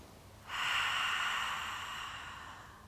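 A single long breath during an eagle arms yoga pose, a sudden airy exhale or inhale that starts abruptly and slowly fades over about two seconds, close and alone.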